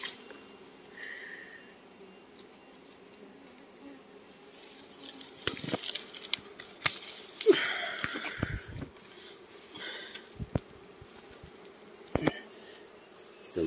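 A swarm of dwarf honey bees hums steadily around a large nest on a high hill, a faint continuous buzz broken by scattered rustles and clicks.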